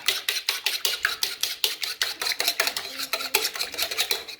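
Eggs whisked briskly in a bowl make a rapid, even rhythm of light clinking taps against the sides, close and moderately loud, with no voices.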